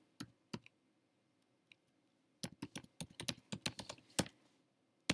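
Computer keyboard typing, quiet close clicks: a few isolated keystrokes, then a quick irregular burst of rapid taps, with no talking.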